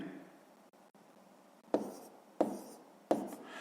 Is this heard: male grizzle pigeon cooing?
no